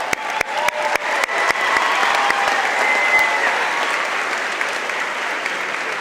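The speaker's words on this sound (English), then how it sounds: "that deserves a round of applause" Audience applause at a high school graduation ceremony in a large hall, starting with scattered individual claps that quickly swell into a sustained, dense roar of clapping, then holds steady before thinning slightly.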